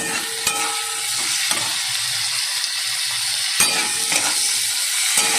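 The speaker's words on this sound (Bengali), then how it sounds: "একটা টমেটোটা দিয়ে দেবো।" Tomato sautés with turmeric and spices in a pan. A steady close sizzle is punctuated by a few sharp spoon scrapes and knocks against the pan.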